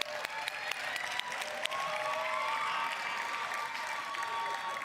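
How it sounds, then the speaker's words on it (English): An awards ceremony audience claps in a sustained round of applause, full and even throughout, with a few scattered louder claps and faint crowd murmur within it. "Please give them a huge, huge round of applause."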